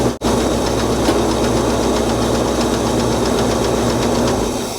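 A 1962 Cadillac DeVille engine, freshly running after carburetor work following decades parked, idles with a loud, steady rumbling drone and faint knocking, close by and with no talking.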